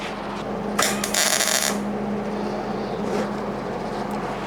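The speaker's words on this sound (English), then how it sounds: "two spot welds" A spot welder joins body metal on a widebody V8 Toyota Celica, letting out two short harsh buzzing bursts close together over a steady low shop hum.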